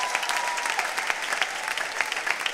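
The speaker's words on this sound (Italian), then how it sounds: "fatelo l'applauso se lo dovete fare" Audience in a church hall applauds steadily, a dense crackle of many hands clapping at moderate level, with faint voices mixed in.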